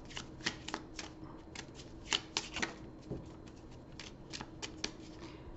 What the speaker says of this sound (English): shuffle this up